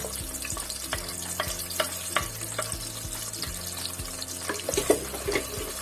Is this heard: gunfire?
no